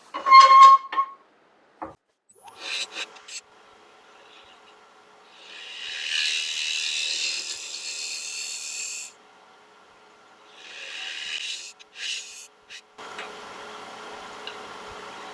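A tool scrapes and hollows out wood spinning on a lathe in intermittent bursts of soft, hissing rasping, with quiet gaps and small knocks between passes.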